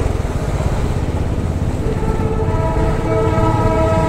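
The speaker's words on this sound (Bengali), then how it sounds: "ট্রেনের আওয়াজ পাচ্ছি" A train rumbles past in Kurseong, Darjeeling, a loud continuous rolling drone with rhythmic clatter from the wheels on the rails throughout, and a horn-like tone joining in partway through.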